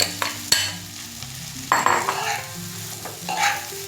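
Soaked sabudana stirred and sautéed in hot oil in a pan, with scraping spatula strokes and soft frying sizzle in short bursts, close and clear, no talking.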